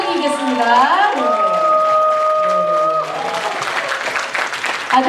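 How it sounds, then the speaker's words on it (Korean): Audience at a book launch and concert cheering and applauding loudly, a dense close crowd roar with clapping; sustained voiced shouts and whoops rise over it and carry on for several seconds. "여러분들 함성을 질러주십시오. 5초간 함성이겠습니다."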